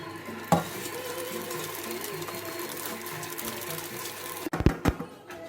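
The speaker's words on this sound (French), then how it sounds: "on a bien touillé notre riz avec de la vermicelle" Basmati rice and toasted vermicelli are stirred in a pot over a steady low sizzle and hum, with a sharp knock early on and a cluster of clattering scrapes near the end.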